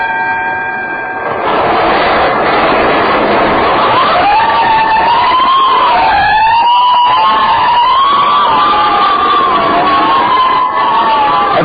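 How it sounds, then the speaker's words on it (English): Fire engine sirens wail at night as a radio drama sound effect, a loud rising-and-falling siren emerging over a rumbling crowd-like noise bed and sweeping continuously for several seconds. "Every time I hear fire engines at night, I think of Harrison Murdoch and the Chantilly case."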